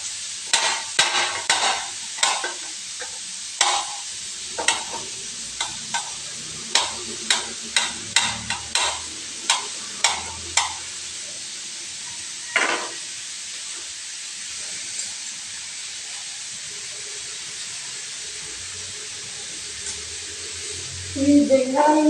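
A spatula clacks against a pan as cauliflower is stir-fried, sharp scraping strokes in a quick irregular burst, then fewer and sparser strokes over a faint sizzle that later goes quiet, with a brief rustle at the end.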